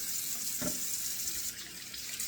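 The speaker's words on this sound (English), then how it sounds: "Now let me splash some cold water on here so I can use my alum" Cold water runs steadily from a bathroom tap and is splashed on the face during a wet shave, a close, continuous rushing stream with a brief splash partway through.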